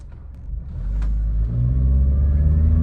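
A low engine rumble swells as a car launches and accelerates, the deep roar growing steadily louder and nearby.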